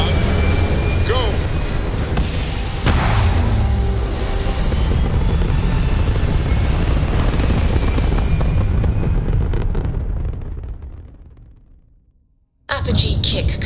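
Engine roar of a spaceship lifting off in Starfield, a loud, sustained rumbling blast that holds steady for several seconds before fading to silence, then cutting back in abruptly.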